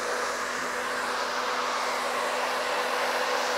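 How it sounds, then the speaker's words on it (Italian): A steady, loud whoosh of blowing air with a constant motor hum, a hair dryer powered by a portable power station, running continuously with no pauses. "dal phon per asciugarci i capelli"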